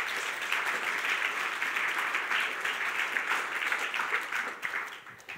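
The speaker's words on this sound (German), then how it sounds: "einen recht herzlichen Applaus." A church congregation gathered for a sermon applauds warmly, a full, even wash of many hands clapping that holds for about five seconds before thinning out near the end.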